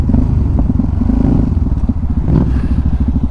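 Motorcycle rolling into a McDonald's drive-through, its engine a close, steady low rumble with uneven throttle pulses and slight clatter, no talk over it.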